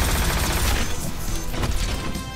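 Iron Man's Proton Cannon super attack in the Marvel vs Capcom fighting game, a loud continuous blast of booming, crackling energy fire with rapid impacts, dense and close throughout.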